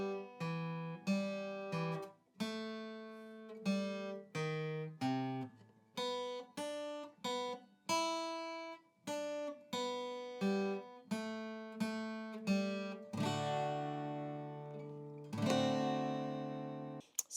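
An acoustic guitar plays a song intro slowly as single picked notes, each ringing and decaying, building into fuller strummed chords near the end, heard alone with no talking.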